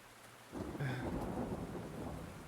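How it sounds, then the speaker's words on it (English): Heavy rain pours steadily with a low rumble of thunder rolling in after a quiet start, a dense, close downpour with no voices. "It's gotta be quick though, this rain is getting pretty heavy"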